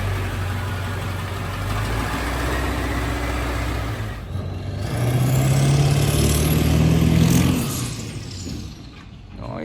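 The upgraded engine of a racing school bus with custom exhaust idles and then revs up for a test ride, a deep rumbling drone that swells louder midway before settling back down, close and continuous.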